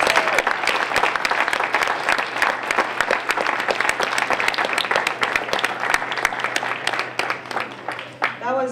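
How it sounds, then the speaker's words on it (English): An audience applauds a high school gospel choir after its performance at a university: steady, loud clapping that goes on for several seconds and fades slightly near the end, with a voice faintly starting at the close. "another round of applause for the choir."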